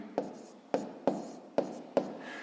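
Numbers are handwritten to set up long division of 504 by 3, giving five short, scratchy strokes at a steady pace, close and quiet, with no talking.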